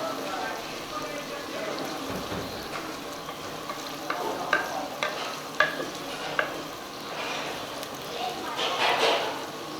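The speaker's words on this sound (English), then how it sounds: "So I've added the ginger, garlic, chilies, onions. I want to fry these up." Ginger, garlic, chilies and onions frying in a pot for a mutton handi, a steady sizzle with scattered clicks and scrapes of stirring, a voice talking faintly underneath.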